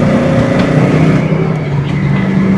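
A stock 1993 Ford Mustang Cobra V8 pulls hard under acceleration on a test drive, a loud steady engine drone with rising tone and road rumble, no talking over it.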